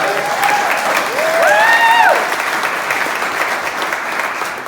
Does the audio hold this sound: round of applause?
yes